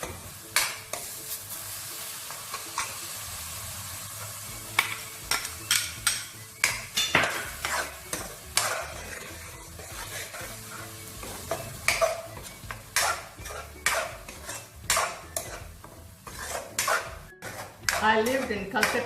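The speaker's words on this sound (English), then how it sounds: "And now you add the tomato grounded paste." Tomato paste fries and sizzles with masala in a pan for a Bengali tinda aloo curry, with frequent scraping stirs and clinks of a spoon against the pan, moderately close.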